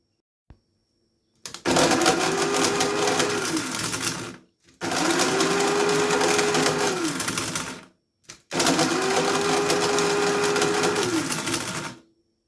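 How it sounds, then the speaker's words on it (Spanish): A coffee grinder pulverizes date seeds into flour in three loud, steady whirring bursts with short pauses between them, each run holding a constant motor whine. "voy a utilizar un molinillo de café, en el cual vamos a agregar algunas semillas. Y a moler se ha dicho."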